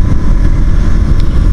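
A KTM Duke 125 motorcycle, 2023 model, roars loudly and steadily as it is pulled hard on the road, a dense continuous engine drone with no voices.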